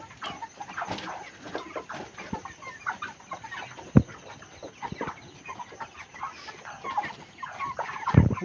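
A flock of 33-day-old broiler chickens clucks and murmurs continuously on a farm, with overlapping close and distant calls, soft rustling and a few sharp knocks.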